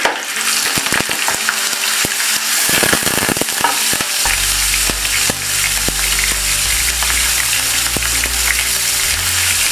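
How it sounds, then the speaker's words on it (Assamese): Paneer fries in hot oil in a frying pan, giving a loud, continuous close-up sizzle broken by bursts of stirring and spatter. "এখন ফ্ৰাইং পেনত মই তেল গৰম কৰি প্ৰথমতে পনীৰখিনি ভাজি ল'ম।"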